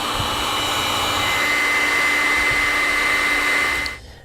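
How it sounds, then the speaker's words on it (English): A heat source blows steadily to shrink heat shrink tubing over crimped trailer light wiring, a constant loud whooshing hum that cuts off abruptly near the end. "we can then take a heat source and heat up the heat shrink"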